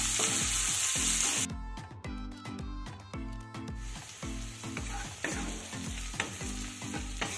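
Chopped onion stirred and fried in a pan at home, with a steady sizzle and scraping stirs alongside a rhythmic musical backing throughout.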